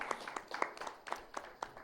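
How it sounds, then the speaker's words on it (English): Faint applause at a conference event on social innovation: a handful of sparse, distinct claps in a loose, even rhythm, heard alone. "A round of applause for Mutunrayi to take the stage, please."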